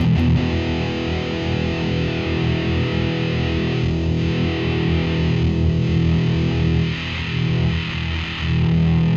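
A heavily distorted high-gain electric guitar through a DIY Dual Rectifier-style amp rings out in a sustained, saturated wash with a harsh, fizzy high end, loud and continuous with no talking.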